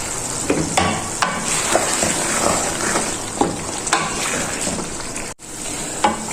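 Beef karahi masala with black pepper being fried in a wok, a continuous close sizzle broken by regular scraping and clinking stirring strokes, with a short dropout near the end and no speech.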